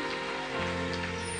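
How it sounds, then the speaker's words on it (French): Steady rain falls on a surface, a continuous dense patter throughout with a low steady hum underneath and no voices. "Alors la pluie telle que ça tombait, c'est un bon signe."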